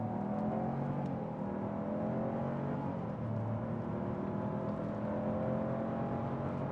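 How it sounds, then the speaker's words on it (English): A 2022 Buick Encore GX accelerates on the highway, its engine droning steadily from inside the cabin with a rising whir over constant road noise, no voices. "We'll get up on the highway here, and I'll give you guys a sense of the acceleration here."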